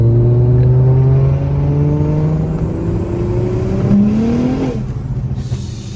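A BMW 340i with a big turbo kit pulls hard during a tuning run, its loud engine note climbing steadily in pitch with a brief shift-like change near the end.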